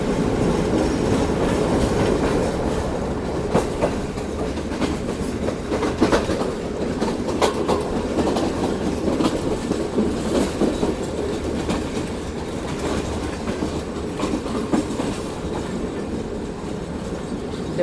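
A train leaving Karachi Cantt rolls past slowly and close by, a continuous loud rumble with rhythmic clickety-clack of wheels over rail joints and occasional metallic squeals.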